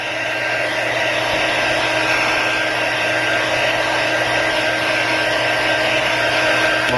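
A heat blower runs with a loud, steady whirring hiss while warming a cracked Samsung Galaxy phone screen during repair, holding constant and alone throughout.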